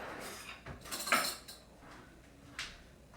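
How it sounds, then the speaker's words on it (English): A spoon scrapes and clinks against a 1/4 measuring cup while scooping and packing shortening, a few quiet, close metallic taps and scrapes with no talking. "a spoon to take and scoop it into my 1/4 cup, pressing it down, packing it in"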